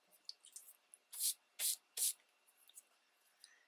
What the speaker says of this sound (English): So then I had to spray it again.